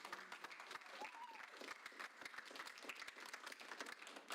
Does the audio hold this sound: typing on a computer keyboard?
no